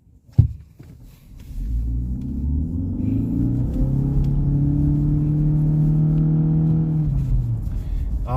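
A 2020 Ford Fusion Hybrid accelerates hard from a start, its engine drone rising steadily in pitch and staying loud and continuous inside the cabin after a brief knock at the beginning.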